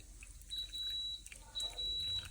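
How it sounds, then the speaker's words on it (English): Two long, high-pitched electronic beeps from a rice cooker, each lasting about half a second, over quiet room noise. "That is the rice that is beeping."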